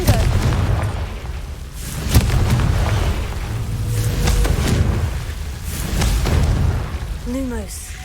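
Confringo blasting spells explode in Hogwarts Legacy, loud booming bursts over a rumbling game soundscape, with a heavy blast early and further rolling impacts before a whooshing tail.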